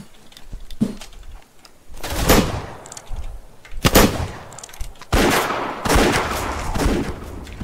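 Shotgun blasts in a Wild West video game come in several loud, heavy bursts spaced a second or two apart, with a few sharper follow-up shots.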